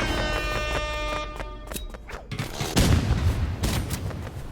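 Rapid bursts of automatic gunfire in a video game crackle densely and continuously, with sharp overlapping shots and a heavier thud near the end.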